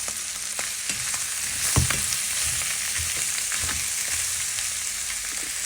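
Onions sizzling and crackling in hot oil in a pan, a steady close frying hiss with occasional soft stirring knocks, no voices.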